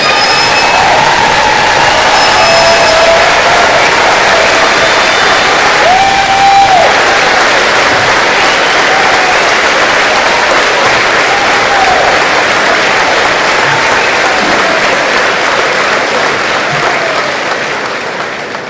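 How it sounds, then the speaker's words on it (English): Sustained, loud applause from a large audience at a high school commencement honoring service members, a dense continuous roar of clapping that holds steady for the whole stretch before easing slightly at the end. "would you please rise so we may honor your service with our applause"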